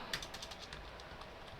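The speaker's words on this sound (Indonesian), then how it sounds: "misalkan kita mengetik di sini ya" Quiet, quick keystrokes on a computer keyboard, a light irregular patter of taps with a brief soft chirp near the start.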